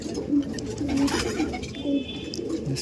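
Close, repeated low cooing from owl-face Madras pigeons, rising and falling in short bursts over faint ambient noise.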